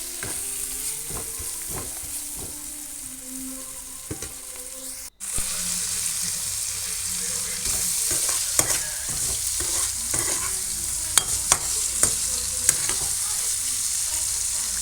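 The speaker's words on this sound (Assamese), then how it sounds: "এনেকৈয়ে ল' ফ্লেমত মই 10 মিনিটমান ভাজি ল'ম" Spice paste, onions and tomatoes fry on a low flame for a dhaba-style broiler liver dish. A steady close sizzle runs throughout with repeated stirring scrapes and taps, briefly cutting out around the middle before resuming.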